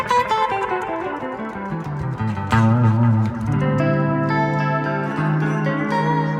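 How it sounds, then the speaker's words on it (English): An electric guitar plays through an amplifier with chorus engaged on an RC-505 loop station, giving a clean tone. Melodic notes and strummed chords shimmer with a wavering chorus and a touch of echo, and the playing is alone with no talk. "Now you'll hear the chorus on here."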